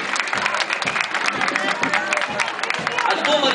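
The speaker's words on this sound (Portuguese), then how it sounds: "Uma salva de palmas para o primeiro momento do projeto." Applause and cheering from a school audience after a class performance in Madureira, a dense steady wash of clapping with crowd voices mixed in, loud and continuous throughout.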